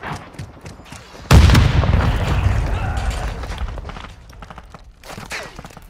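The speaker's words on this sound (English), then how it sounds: "Throwing grenade!" A grenade blows up in a Modern Warfare II team deathmatch on Mercado Las Almas, a sudden heavy boom that rumbles and fades over several seconds, with scattered gunfire and small clicks before and after.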